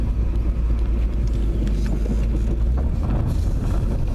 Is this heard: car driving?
yes